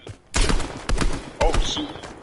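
Three heavy shotgun blasts boom in a video game at uneven intervals, loud and close, with excited voices talking between them.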